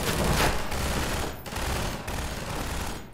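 Sustained turret fire in the Half-Life 2 VR video game, a dense, continuous rattling barrage that stays loud and close throughout with only brief dips, no voices over it.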